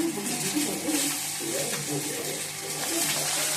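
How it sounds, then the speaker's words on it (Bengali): Steady sizzling and crackling of fish frying in a hot pan, close and continuous, with faint scraping or stirring noises mixed in. "ভেজে নিচ্ছি।"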